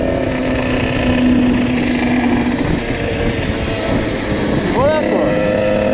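Sherco SMRS motorcycle ridden at an easy pace, its engine a steady continuous drone with wind noise throughout, the pitch rising briefly near the end.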